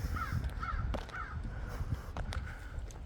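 A single crow calling from overhead outdoors, giving three quick caws in a row early on, moderately loud over a quiet background with faint scattered thumps.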